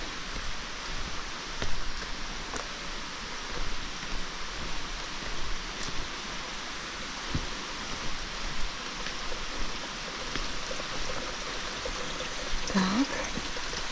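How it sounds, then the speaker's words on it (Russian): A stream in Australia flows in a steady, continuous broadband rush of water, evenly loud for the whole stretch with no break in the flow. "слышны звуки воды"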